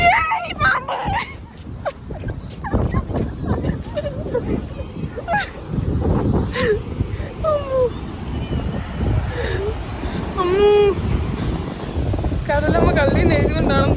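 Wind buffets the microphone on a beach while sea waves wash in underneath, a loud, gusty roar with surges of surf, and people talk intermittently over it.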